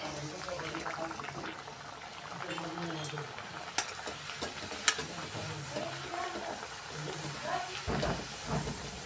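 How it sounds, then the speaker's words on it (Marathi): Pumpkin puris (gharya) deep-fry in oil over a low gas flame, giving a steady, bubbling sizzle throughout with a couple of sharp pops, while a voice talks over it. "मंद गॅसवरच आपण याला तळून घेणार आहे"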